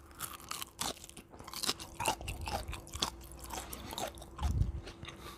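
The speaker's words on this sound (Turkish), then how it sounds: "Sesi duyuyor musunuz? Şu an ısırıyorum." Crunchy bites into a crispy fried beef snack, several sharp crackling crunches followed by close chewing, heard up close with no talking.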